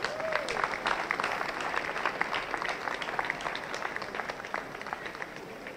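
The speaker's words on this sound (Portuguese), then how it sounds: "Quatro palmas." Steady crowd applause at a 60th birthday celebration, dense overlapping claps at moderate volume with a faint voice early on.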